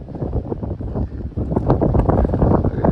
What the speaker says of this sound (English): It's really windy up here, guys.